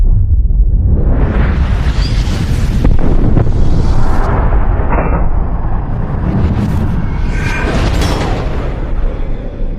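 A huge, roaring explosion sound effect: a deep rumbling blast that swells and churns for several seconds with whooshing debris-like bursts, loud and unbroken.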